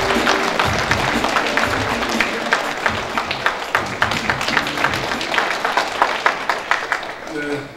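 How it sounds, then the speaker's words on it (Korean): A crowd claps warmly for the Seoul mayor at a book launch event, dense applause that settles into rhythmic, fading hand claps near the end. "큰 박수 부탁드립니다"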